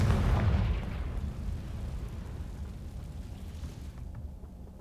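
A Confringo spell explosion in a Harry Potter video game: a loud, booming blast at the very start, then a long rumbling fade that slowly dies away, with no talking.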